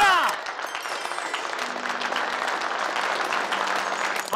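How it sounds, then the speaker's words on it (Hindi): A Ramlila audience breaks into sustained applause, dense clapping that swells quickly and holds steady, with a voice briefly audible at the start. "तालियां!"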